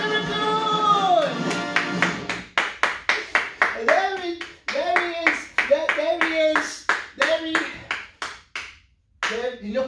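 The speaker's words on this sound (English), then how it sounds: "Let's have a big, huge round of applause for Derek the Raccoon!" An audience breaks into scattered hand clapping at a magician's show, the claps sharp and close and coming in bursts, while a child calls out and other voices are heard over them.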